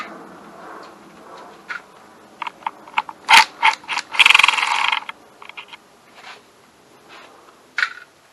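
A ratchet loosens the cylinder head bolts on a KTM 125SX two-stroke engine, giving close, sharp bursts of clicking pawl ratchets with short gaps and a few metallic taps between strokes.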